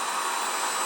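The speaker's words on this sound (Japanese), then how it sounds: "掃除機の音がしても逃げません。" Vacuum cleaner running close by at home near cats resting on a sofa, a steady, loud broadband whoosh that holds evenly throughout with no pauses.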